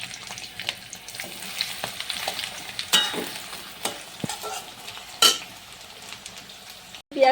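Chopped onions frying in mustard oil with dried and green chillies and bay leaf, a steady close sizzle broken by sharp scraping stirs of a spatula against the pan.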